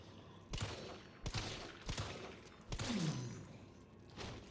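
Gunfire from a character firing while on the move in Resident Evil 3 Remake: about five separate heavy shots spaced roughly every half to one second, each a sharp burst trailing off into a rumbling tail.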